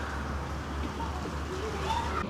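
Birds in a Costa Rica cloud forest near Puntarenas give soft, faint coos over a steady background hum of the surroundings.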